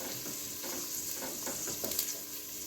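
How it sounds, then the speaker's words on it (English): Onion and garlic sautéing in a pan for broccoli soup, a quiet continuous sizzle with faint scraping stirs and a few light clinks, no voices. "Let's saute for another minute or so."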